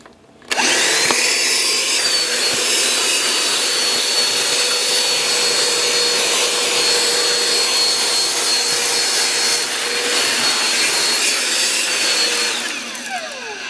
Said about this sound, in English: let's do a little vacuuming on the floor, see how it picks up here. Actually, first on the workbench.